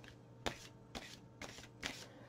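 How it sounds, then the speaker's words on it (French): Tarot cards shuffled by hand in a quiet room, a few separate riffling bursts spaced about half a second apart, close and moderately loud with no voices. "Et pour finir, je vais tirer 3 cartes"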